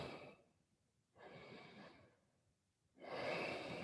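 Slow yoga breaths during a vinyasa flow, exhaling and inhaling in three long airy waves. The first is a soft fading exhale, the middle one is steady, and the last is strongest and close, with no talking.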